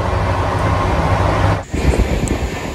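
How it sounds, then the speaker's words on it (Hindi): Moving train rumbling loudly and continuously up close, heard from on board, with a brief dip partway through and no talk. "वॉइस बहुत ज़्यादा आपको आ रही होगी ट्रेन की, क्योंकि ट्रेन चल रही है"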